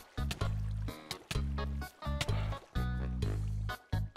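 Water being placed in Minecraft Bedwars, a series of loud, repeated splashing bursts of liquid pouring and filling, rapid and close, standing alone without talk.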